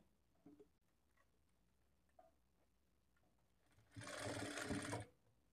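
Sewing machine stitching a blouse, running in one loud burst of about a second toward the end, with a few faint clicks and handling sounds before it in a quiet room.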